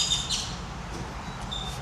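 Birds squawk and chirp outdoors in a brief burst up front and a couple of faint later calls, set over a steady low rumble with no voices.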